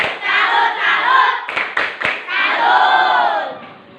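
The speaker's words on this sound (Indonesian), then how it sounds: "Tepuk salut dong untuk kita semua." A room of schoolchildren performs the 'tepuk salut' clapping chant, loud voices chanting together with a few sharp claps in the middle.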